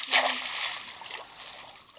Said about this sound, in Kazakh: Айналып біз жүземіз.